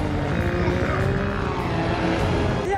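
A helicopter in the action film Hobbs and Shaw sounds loud and continuous, its rotor and engine drone blended with car engine noise and a dense action soundtrack. No one speaks.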